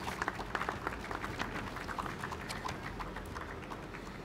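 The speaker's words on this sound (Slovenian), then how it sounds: "En aplavz za vse oblikovalce" Faint, distant applause from an outdoor crowd on a town plaza at an Olympic torch event in Zagorje, a thin steady patter of many hands clapping with no talk.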